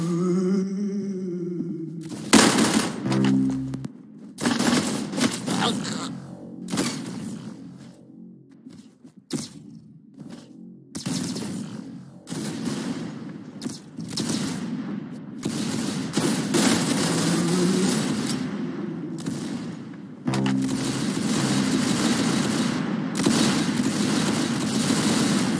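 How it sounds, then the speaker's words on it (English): Rapid bursts of gunfire from the Roblox shooter game Arsenal, loud and repeated in dense volleys and automatic strings with brief pauses, over a steady low game hum. "Good shot! You got his head!"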